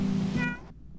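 Kitten meowing in the video game Shelter 2, a single short, clear, fairly close mew that trails off into quiet.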